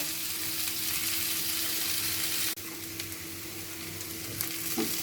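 Cauliflower frying in coconut oil over a high flame, a steady close sizzle with a brief break midway and occasional stirring clicks, no voices.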